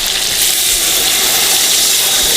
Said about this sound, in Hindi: और साथ ही हम पानी डाल देंगे